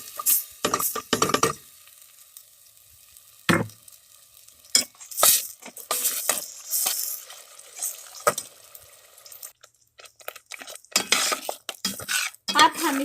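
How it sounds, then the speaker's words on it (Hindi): Blended masala paste stirred and fried in about a cup of cooking oil over low flame for chicken korma, with a spoon scraping and clanking against the pot in bursts and a soft sizzle between strokes. "अब हम इस मसाले को अच्छी तरह से भूनेंगे लो फ्लेम पे"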